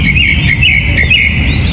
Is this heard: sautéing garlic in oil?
no